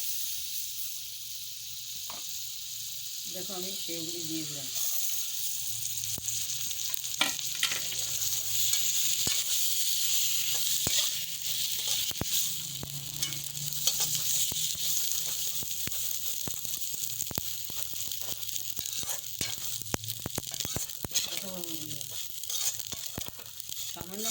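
Steady, soft sizzling of vermicelli frying in butter in a pan, with irregular stirring scrapes and clicks, and a few brief voices in the background.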